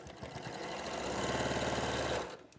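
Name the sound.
sewing machine sewing across fabric squares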